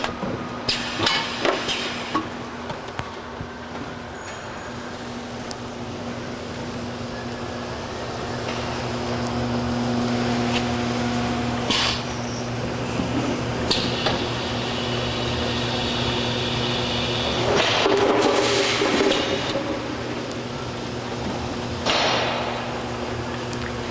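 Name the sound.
10-head overflow filler on liquid filling line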